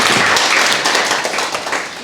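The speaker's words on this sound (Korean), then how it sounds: "뜨거운 박수로 모시겠습니다" Audience applause welcoming a speaker to a university sociology lecture, a brief burst of dense, close clapping that tapers slightly over two seconds.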